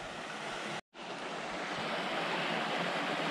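Two woodland streams meeting on the trail up to Lick Creek Falls give a steady, loud broadband rush of flowing water that continues alone apart from one brief dropout.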